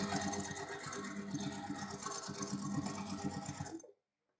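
A sewing machine stitches around a square of quilt fabric in a fast, steady mechanical whir with rapid needle clatter, running continuously before cutting off into silence.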